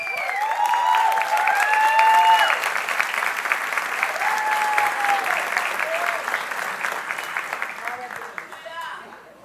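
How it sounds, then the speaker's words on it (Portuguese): A church congregation at a Mother's Day celebration service applauds a mother called to the front, sustained loud clapping with a few cheers and whistles, tapering off near the end. "Queria que você aplaudisse a nossa querida Alessandra."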